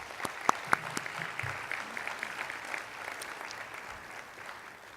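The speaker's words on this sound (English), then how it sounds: "Let's give them all a round of applause" Audience applause for a conference planning committee at the opening session of a community engagement conference, a steady moderate patter of many hands with a few sharper claps standing out near the start.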